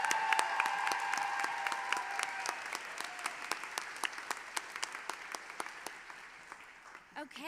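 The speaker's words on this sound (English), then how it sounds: "One more round of applause for these amazing students." An audience at the Marion County Golden Apple event applauds students on stage, a dense wash of clapping that swells then gradually thins out, with a few louder individual claps standing out near the end.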